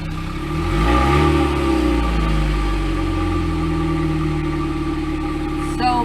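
A 1998 Sunfire car engine with a new muffler starts up and revs briefly, then settles into a steady idle, close by with a faint voice in the background.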